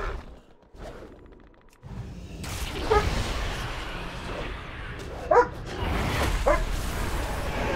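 Dog barking in World of Warcraft: Battle for Azeroth, a few short yips and barks mixed into busy game sounds and whooshes.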